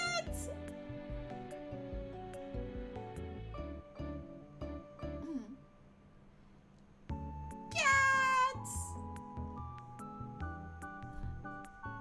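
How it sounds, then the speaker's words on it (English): A house cat meows repeatedly in a cozy home setting, the calls rising over steady background music, with one louder drawn-out meow near the end. "Oh, cat!"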